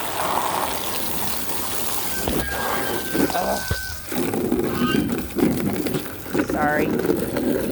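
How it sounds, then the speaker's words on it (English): Water running from a garden hose fitted with a new shut-off nozzle outdoors, a steady hiss and splatter that continues under nearby talking, with brief interruptions in the flow. "I put a new nozzle on the end of my hose so I can shut the water off."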